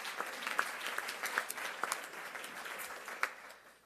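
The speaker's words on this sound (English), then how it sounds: "So a round of applause." Audience applause at a health care open enrollment press event with the governor, a faint, steady patter of many hands clapping for a few seconds, heard from a distance.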